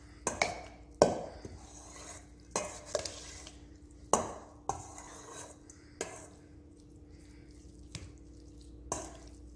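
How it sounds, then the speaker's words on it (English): Crab meat being stirred with melted butter and shrimp juice for a shrimp and crab po boy, a spoon scraping and tapping a bowl in a few scattered wet strokes, close and fairly quiet with no talking. "We're gonna give that a stir."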